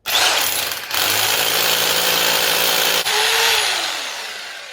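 A loud, harsh hammer drill grinds continuously into concrete, stopping briefly twice before starting again and finally winding down.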